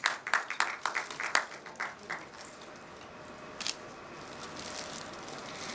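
An audience at a retail industry conference breaks into applause, a burst of close claps that thins out into scattered, fading clapping with a brief swell near the end.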